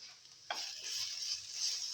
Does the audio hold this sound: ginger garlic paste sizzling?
yes